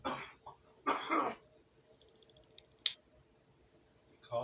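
A person coughs in two short, harsh bursts, followed by faint clicks and a small tap, then another cough at the end in an otherwise quiet room.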